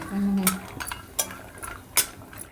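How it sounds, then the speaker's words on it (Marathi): Spoon scraping and clinking in a pan as cashews and almonds roast in ghee, with several sharp metallic strikes spaced through a low steady sizzle, close by and moderately loud, no talking. "इथं दोन चमचे तूप घेतले त्यामध्ये आपण काजू आणि बदाम भाजून घेणार आहोत"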